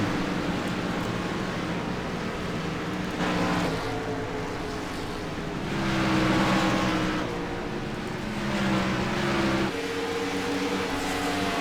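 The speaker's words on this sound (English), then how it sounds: "As we're looking at David Shutt making his way around the track now" Engines of sim racing cars droning steadily around an oval track in a Tornado Tailgater Series video game race, with shifting engine pitch and swells as cars pass, continuous and fairly loud, no talking.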